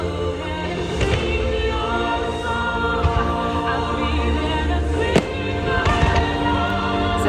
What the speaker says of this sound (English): This is my favorite view of the fireworks.